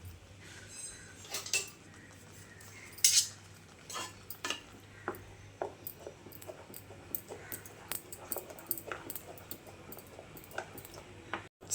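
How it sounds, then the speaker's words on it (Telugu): Mango pulp, blended in a mixer, goes into a kadai on a lit stove, giving a series of sharp metallic clinks and scrapes of a spoon against the pan over a quiet background. "కళాయి వెలిగించుకొని స్టవ్ మీద పెట్టుకున్నాను. ఇది మొత్తం కళాయిలో వేసేద్దాం"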